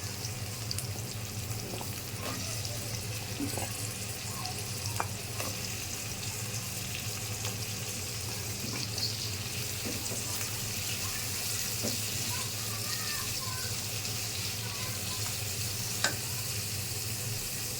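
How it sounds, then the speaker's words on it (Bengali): Potatoes fry in a pan with onion, giving a steady, moderate sizzle that runs throughout, with occasional light scrapes and clicks of stirring and no talking. "এখন আলু দিয়ে দিলাম। আলুটাকে ভাজতে হবে।"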